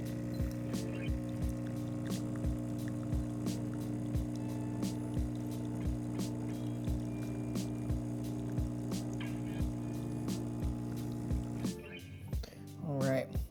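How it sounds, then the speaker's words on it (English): A Fellow espresso machine pulls a shot into a hot glass, its steady pump hum running throughout with rhythmic drips and small liquid ticks, ending in brief handling noises. "With this hot glass now, pull another shot and then check the temperature of that water."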